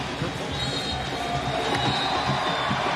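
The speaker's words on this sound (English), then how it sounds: "Big pop from the crowd at Shell Energy Stadium, which enjoyed every minute." A stadium crowd cheering at Shell Energy Stadium during a Dynamo vs. Austin FC soccer match, a broad sustained roar of many voices filling the space.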